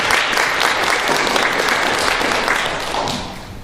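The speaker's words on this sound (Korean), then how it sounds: "다시 한번 박수 주시면 감사하겠습니다" A conference audience at the 2026 International Conference on Fire Investigation breaks into full, steady applause that stays loud throughout and eases off slightly at the very end.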